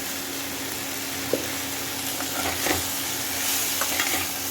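Hilsa with pointed gourd being stirred in a pan with turmeric, cumin, chilli and coriander powders: a steady close sizzle with a few soft scrapes and knocks of the spatula.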